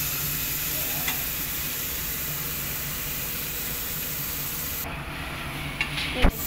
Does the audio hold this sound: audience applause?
no